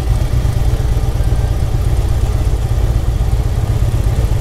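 A motorcycle engine runs steadily and close up, a continuous low rumbling drone with no pauses and no voices on top.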